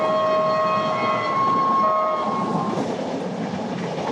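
Inside a passenger train running on rails from Portugal toward Asia: a loud, steady rumble with clattering wheels and a sustained high tonal whine that fades partway through, no voices.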